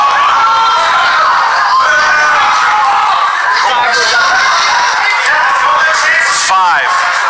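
A crowd at a live pub quiz lets out a loud, sustained groan after a question about the Terminator franchise, a dense wash of many voices with scattered shouts and a rising whoop near the end.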